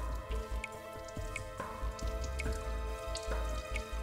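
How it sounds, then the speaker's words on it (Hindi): Water dripping from a leak beside a wall, with irregular close drops landing over a low background rumble and no voices. "यहां से पानी टपक रहा है,"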